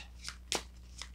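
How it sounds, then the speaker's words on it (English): Tarot-style playing cards are shuffled and drawn in a quiet room, with three short papery bursts, the middle one loudest and sharpest, each standing alone without talk. "So I'm going to pull from the playing card."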